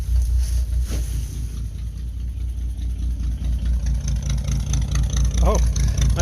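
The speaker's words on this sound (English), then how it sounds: "It's only running on 5 cylinders though." Engine running rough on five cylinders, an uneven low throbbing idle heard up close, with a faint short squeak late on and no clear talk.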